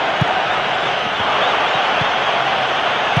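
A large stadium crowd at a football match, the Netherlands against Spain, keeps up a loud, dense roar of cheering and noise that holds steady from start to end, with no clear single voices.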